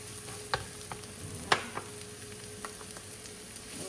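Garlic sizzling in a hot pan for a Filipino ampalaya and shrimp dish, a soft steady fry with a few light clicks of a utensil against the pan.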